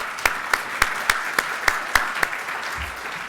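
Audience applause at the JPAC Capitol Summit 2023 welcome session, sharp evenly paced claps ringing out over a low crowd murmur before tapering off.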